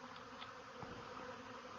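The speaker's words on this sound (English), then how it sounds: "these bees just think this is going to be their new home right there" A swarm of honeybees settles into a cavity under a piece of plywood, giving a dense, continuous buzzing hum at close range.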